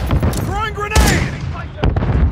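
Gunfire in a Call of Duty battle: a loud burst of shots followed by a couple more reports, mixed with in-game shouting and radio-like voices.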